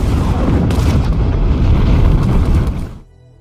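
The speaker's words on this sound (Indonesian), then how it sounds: "Dari situ ledakan besar pun terjadi." Rockets hitting a base in a film set off a loud, close explosion: a massive roaring boom that rumbles for about three seconds before cutting off abruptly.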